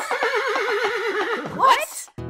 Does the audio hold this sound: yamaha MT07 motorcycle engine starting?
no